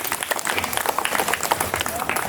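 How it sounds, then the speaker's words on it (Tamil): Audience applause at a Tamil Bigg Boss comedy show, dense clapping throughout with crowd noise and talk mixed in. "உனக்கு ஒரு கைதட்டு கொடுக்கலாம் எல்லாருமே"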